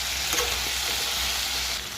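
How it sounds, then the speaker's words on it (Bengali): Potatoes frying in oil tempered with spices for aloo posto, a dense continuous sizzle close by with stirring movement, easing slightly at the end, no voices. "তেলে একটু ফোড়ন দিয়ে আলু দিয়েছি"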